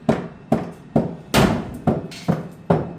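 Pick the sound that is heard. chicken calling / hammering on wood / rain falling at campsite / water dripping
hammering on wood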